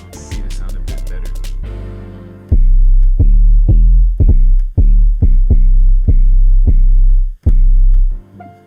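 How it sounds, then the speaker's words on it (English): Deep 808 bass hits built in Serum with a gritty FM noise layer, a dense cluster at first, then about a dozen punchy, sustained notes in steady succession, loud and alone. "that's pretty much every 808 from that kit I could find with that noise layer"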